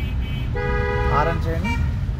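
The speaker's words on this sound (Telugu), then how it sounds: "హారన్ చేయండి మళ్ళీ ఒకసారి" A car horn on a driving-school lesson in Miyapur, one sustained honk of about a second over the low hum of the moving car, with an instructor's voice heard around it.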